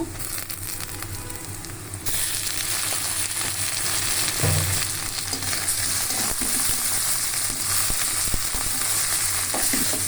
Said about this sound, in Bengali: ভালোভাবে চিংড়ি মাছটা ভাজা হচ্ছে